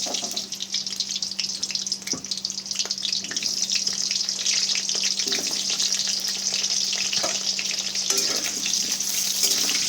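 Potatoes dropped into hot oil for a mutton curry, giving a dense, continuous hiss of frying that stays loud and even throughout, with faint knocks underneath.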